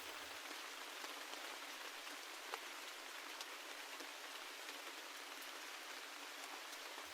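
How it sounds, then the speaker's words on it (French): Gentle rain falls steadily outdoors, a soft, continuous patter of drops on surfaces with no voices, even and unbroken throughout. "la pluie tombe doucement à l'extérieur"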